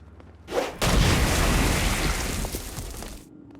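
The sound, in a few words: pistol shots shattering petrified demons in video game Saints Row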